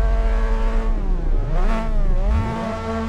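Race car engines in the Assetto Corsa racing game rev loudly at the start of an online race in Mazda cars. Several engines snarl together, their pitch sweeping up and down in rising and falling whines, with no talk.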